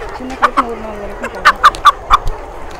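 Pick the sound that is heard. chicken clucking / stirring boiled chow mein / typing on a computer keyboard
chicken clucking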